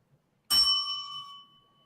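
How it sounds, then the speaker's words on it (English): A single ding of a small metal bell, sharp bright strike that rings out and fades over about a second, close and alone. "Yeah, it's a bell."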